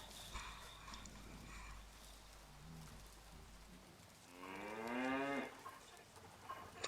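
Cattle in a barn in the medieval survival game Life is Feudal: Your Own give a single drawn-out, nearby moo that swells and fades, with soft ambient rain-like noise and low rumble beforehand.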